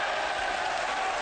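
Steady, dense applause from a crowd at a professional nine-ball pool match, the Mosconi Cup, heard alone and evenly sustained.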